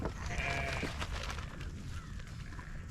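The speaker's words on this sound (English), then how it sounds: "these goats and sheep eat better than me sometimes" Sheep and goats bleat on a bush farm, a wavering cry near the start followed by fainter calls at a moderate distance over a low, rumbling outdoor background.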